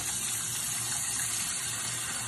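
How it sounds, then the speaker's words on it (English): Running tap water pours steadily over hands being washed, a loud, close, continuous gush with no talk over it. "So let me go ahead and wash my hands again."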